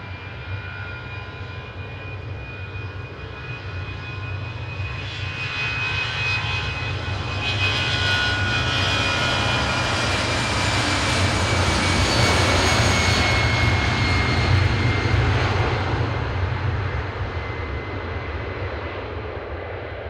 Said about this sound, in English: This one's a 7-year-old aircraft, registration TFICI, and I do like their new livery.